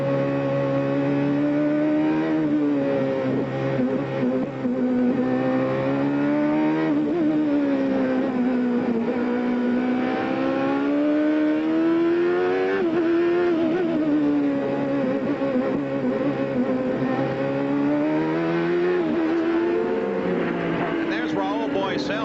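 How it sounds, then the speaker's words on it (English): 1990 CART race cars at Portland accelerate out of a chicane toward the first turn, a loud, continuous engine howl rising and dropping in pitch with each gear shift, under a commentator's voice. "Let's try and listen to the gears as they head now out of the chicane for the first turn."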